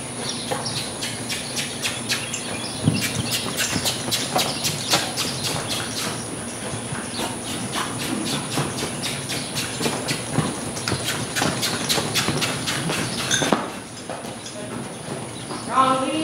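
Horse trotting and pushed into a lope under a rider, a steady rhythmic clip-clop of hooves close by, with a person talking over it and insects chirping in the background.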